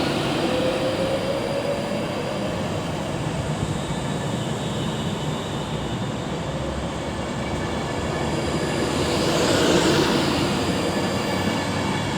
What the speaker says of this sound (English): Coming in behind me is the 1235 London Northwestern Railway service from Birmingham New Street to London Euston.